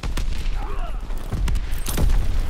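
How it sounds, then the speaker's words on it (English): A bomb detonates on an artillery cannon in the Call of Duty WWII video game, giving a broadband blast with booming low rumble and crackling gunfire-like bursts, loud and continuous across the moment. "Bomb detonated!"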